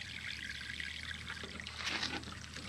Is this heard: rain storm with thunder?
no